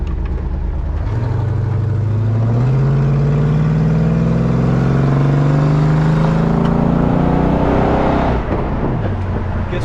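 A 1968 Pontiac LeMans convertible accelerating on a test drive, its engine note climbing steadily through the gears, loud and close with a rising, rumbling pitch and no talking.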